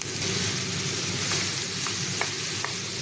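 Pumpkin curry mixed in a frying pan gives a steady, close, hissing sizzle throughout, with a few faint clicks of the spoon against the pan.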